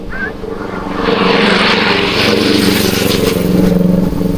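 A camera drone's propellers buzz in a steady, loud drone near a coastal road, the pitch holding as the craft hovers close overhead with no one speaking.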